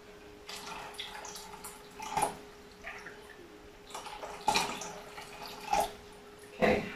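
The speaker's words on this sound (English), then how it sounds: "Do you want to add some more warm water there?" Warm water poured into a foot bath, heard as faint splashes and drips in a quiet room, with a few louder sloshes near the end and no talking.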